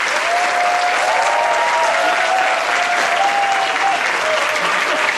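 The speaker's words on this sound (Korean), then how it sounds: "이 시간 우리 김종훈 목사님 박수로 이 자리로 환영하도록 하겠습니다" An audience at an evening church service applauds to welcome a pastor, with loud, dense and continuous clapping throughout and a faint tonal whine running beneath it.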